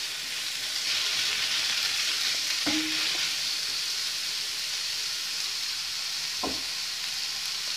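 Finely chopped onion sautéing in a pan for aloo paratha filling, a steady close frying hiss with two brief metallic scrapes of a spoon against the pan, no voices.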